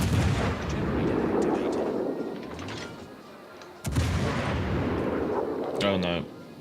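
Naval guns fire during a battle in World of Warships: Legends, heavy booming salvos with rumbling decay and one sharp blast partway through. A voice speaks over part of the gunfire.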